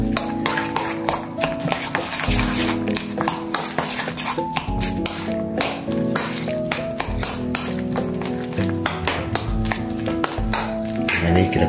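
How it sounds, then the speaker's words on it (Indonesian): Korean fried rice is stirred in a pan, with a dense run of quick spatula taps and clinks over a steady tonal backdrop throughout. "Nah, ini diaduk terus teman-teman."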